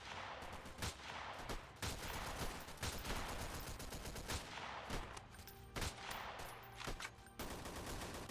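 Rapid, dense gunfire in the video game Freeman: Guerrilla Warfare, sustained bursts of sharp overlapping shots with brief lulls, loud and continuous with no talking.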